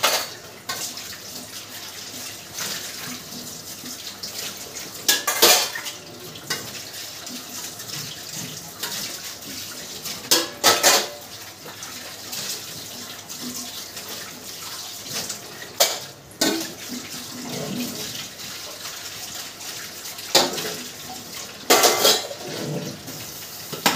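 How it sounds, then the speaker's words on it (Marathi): Pots, pans and cutlery scrubbed and clattering in a running-water sink, with repeated sharp bursts of scraping and clinking every few seconds over a steady trickle of the tap. "भांडे घासते"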